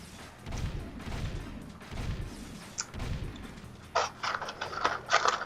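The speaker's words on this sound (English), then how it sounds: "I was shooting the shield." Gunfire in the game Jak 2 as the player shoots at an enemy's shield: muffled low thumps early on, then a quick run of sharper, louder shots near the end.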